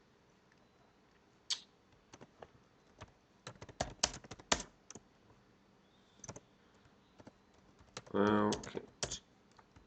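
Someone types in scattered bursts of keystrokes on a computer keyboard during a live forex market analysis session, the clicks close and fairly loud with pauses between them, and a person speaks briefly near the end.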